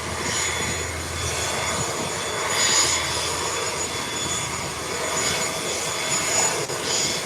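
Aircraft engine roar from a takeoff at Howard Hamilton International Airport, likely a Cessna 172 light plane, a steady broadband drone heard from a distance that swells and fades slightly across the stretch.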